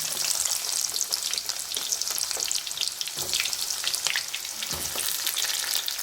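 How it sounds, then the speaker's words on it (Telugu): Onions are added to hot peanut oil for a chicken gravy curry. A loud, continuous close-up sizzle carries through with brief stirring bursts and no voices. "ఇప్పుడైతే ఇంకా మనం ఆనియన్స్ అయితే వేసుకుందాం"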